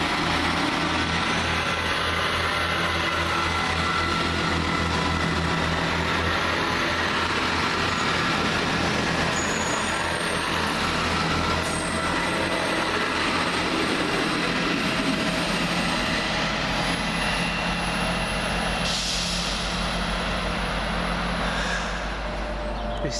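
An Arriva Trains Wales Class 158 diesel unit pulls away from Smethwick Galton Bridge station, a steady loud engine drone and rumble with rail noise that persists throughout, no talking over it.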